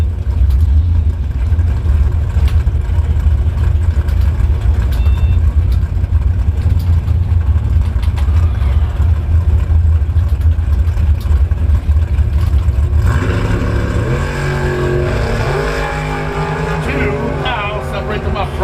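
A Camaro and a dragster racing at Bradenton Motorsports Park during a Labor Day bracket drag event, heard as a loud, steady engine roar that shifts into rising, revving gear changes near the end.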